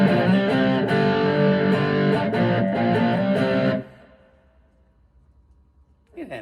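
Lightning Boy Mk2 amplifier pushed into distortion, a loud, dense overdriven guitar sound sustaining for several seconds before cutting off, leaving a faint decaying tail and a brief burst at the end.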